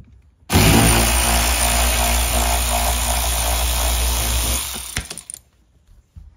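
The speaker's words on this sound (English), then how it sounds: "I'm just using a powered Torx driver just to make it a little bit quicker, since I got to do all six of these here." A powered Torx driver spins out T30 screws while a Honda Ridgeline tonneau cover is installed, giving a loud, steady motor whine that cuts in abruptly, holds for about four seconds and then winds down with a few small clicks.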